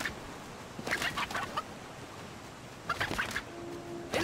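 Fighting roosters in the video game Sleeping Dogs let out two short flurries of squawking and clucking, separated by quiet background ambience.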